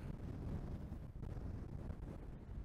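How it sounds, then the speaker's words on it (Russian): Strong wind buffets the microphone on a bridge over a bay, a steady low roar that fills the whole stretch without a break and carries no voices. "Сильный ветер."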